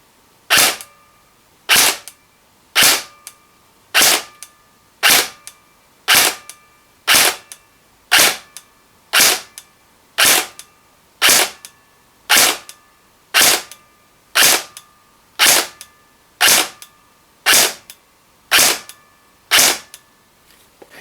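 KWA Ronin T10 airsoft electric gun on an 11.1 lipo, firing Aries 0.3 gram BBs at 15 meters: about seventeen sharp, evenly spaced single shots, loud and close, each a crisp snap with short silence between.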